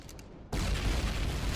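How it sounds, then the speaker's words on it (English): In the space survival game Empyrion Galactic Survival, an explosion bursts in abruptly after a quiet moment and becomes a dense, continuous rumbling roar of blasts. "More explosions!"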